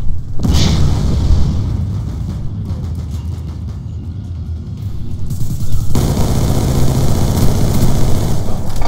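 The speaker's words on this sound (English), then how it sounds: "Let's go cooking some grenades." Grenade explosions in a first-person shooter game, loud heavy booms and rumbling blasts that roll on continuously, one after another, up close and with no voices over them.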